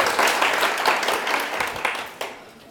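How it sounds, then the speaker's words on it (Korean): Brief round of applause from students in a real estate law lecture hall, a dense patter of clapping that fades out over about three seconds. "한 것도 없는데 박수 받아서 이상한데."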